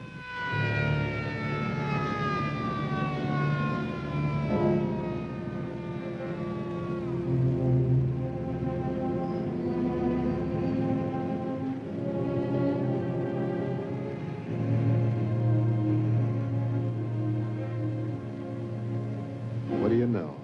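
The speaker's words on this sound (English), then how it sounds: "Brand new ambulance." Ambulance siren, a new ambulance arriving, wailing in long falling and rising sweeps over an engine rumble and background noise, with people talking across much of it.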